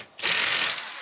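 A cordless screwdriver set to a low 5-newton clutch setting slips and ratchets in one sustained buzzing burst after a brief quiet start, close and fairly loud.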